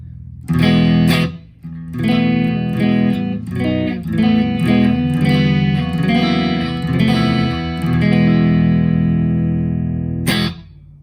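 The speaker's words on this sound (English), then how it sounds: "You can hear there's a little bit of grit, and that's because of the amp and cab sim that I have in the RP360 XP" Electric guitar runs through a DigiTech RP360 XP amp and cab simulation with slight grit and no reverb, playing a ringing chord-and-note phrase loudly up close before a sharp cutoff near the end.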